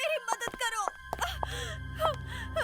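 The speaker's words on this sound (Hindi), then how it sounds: "लड़की के रोने की आवाज?" A girl sobs and whimpers in a Hindi TV crime-drama scene, breathy broken cries over a low background hum, with a voice speaking.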